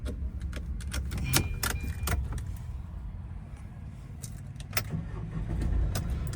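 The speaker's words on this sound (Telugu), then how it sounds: "కార్ అయితే స్టార్ట్ చేశాను" Keys jangle in the ignition of a 2018 Tata Hexa XTA diesel with automatic manual transmission, then the engine starts and idles with a low, steady rumble inside the cabin. A few clicks and rattles sound throughout, with no talk.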